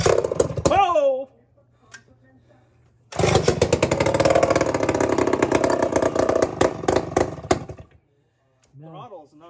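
A vintage Poulan S72 chainsaw with a huge 6-foot bar: a brief sputter, then the engine catches and runs loud and ragged for about five seconds before cutting out, with people talking before and after.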